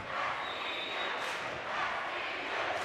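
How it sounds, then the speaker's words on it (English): A crowd at a college volleyball championship match chants loudly in a packed gym, a dense continuous roar of many voices that swells slightly midway and stays near and loud. "The chant of SVU."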